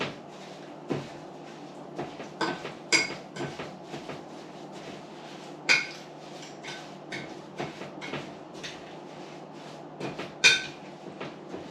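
Frozen strawberries with sugar and lemon juice are stirred in a pot, giving repeated close knocks and scrapes in an uneven rhythm.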